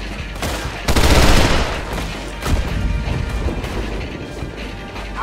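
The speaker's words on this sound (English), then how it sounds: "He's shooting." Gunfire from Red Dead Redemption, with a dense barrage of shots and booms that swells at about one second and again near two and a half seconds, then continues as rapid crackling battle noise. No speech is heard.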